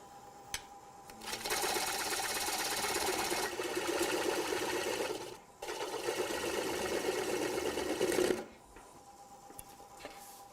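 A bowl gouge takes light passes on a lathe, removing a stub tenon from a wooden bowl: two sustained bursts of buzzing, rattling cutting noise separated by a brief pause, fairly close and moderate in level, with no speech.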